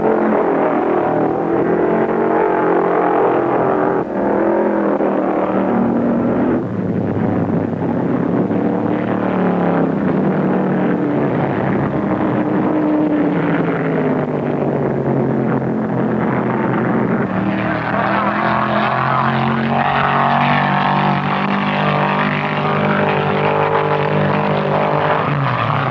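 A Mustang stock car screams at full revs around a tri-oval at a 1974 race, its engine a loud, steady, unbroken drone that holds for the whole stretch while other cars run close behind.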